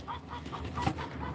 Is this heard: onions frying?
no